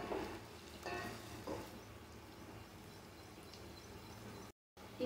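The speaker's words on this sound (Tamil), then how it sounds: "சேர்த்துட்டு இத நல்லா வந்து எண்ணெயில பொரியட்டும்" Garlic and ginger fry in hot oil for a one-pot vegetable biryani, a faint, steady sizzle with a few soft stirring clinks, quiet and continuous, then a brief dropout near the end.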